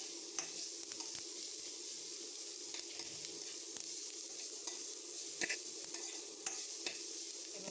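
Onion and garlic roasting in a pan for a spicy bitter gourd dish, a soft steady sizzle with occasional light scrapes and taps of a spatula, fairly quiet and close.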